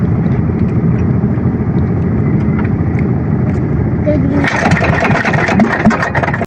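A boat engine runs steadily near the shore, a loud continuous mid-low drone that grows brighter and rougher partway through, with voices talking over it.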